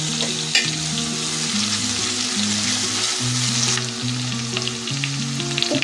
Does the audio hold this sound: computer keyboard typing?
no